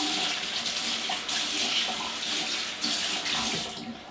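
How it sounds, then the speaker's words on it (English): Running water splashes steadily from a tap as folded paper drywall tape is saturated for patching a golf-ball-sized hole, a close, continuous rushing pour with small fluctuations and no speech. "Fold it in half. Saturate it with water."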